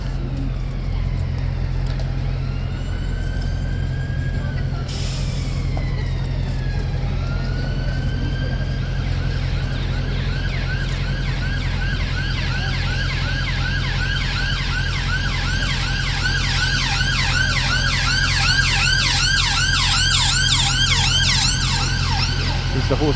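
A horse ambulance siren wails through slow-moving traffic, rising and falling in a steady warbling pattern that grows louder and more prominent over a constant low engine rumble.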